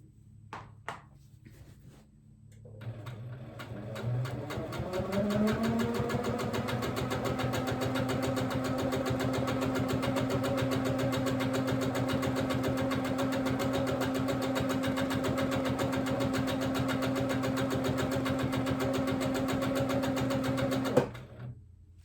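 An HQ longarm quilting machine stitches in manual mode across ice-dyed fabric. Its motor spins up after a few soft clicks, then holds a steady, loud, rapid needle-driven hum for about fifteen seconds before stopping abruptly.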